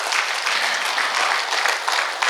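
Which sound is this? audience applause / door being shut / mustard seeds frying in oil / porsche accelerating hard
audience applause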